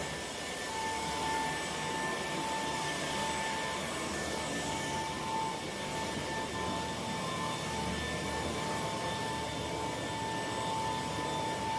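A BUSYBUDY TD1-Mate floor cleaning machine runs continuously, a steady motor whine and airy roar with faint high tonal hums, holding an even level throughout with no pauses.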